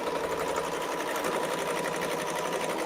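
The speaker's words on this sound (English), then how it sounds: "I'm going to serge off at an angle like that." A serger sewing machine runs steadily as it serges fabric off at an angle, a close, fast rhythmic whirring chatter of needles and cutter that continues without pause.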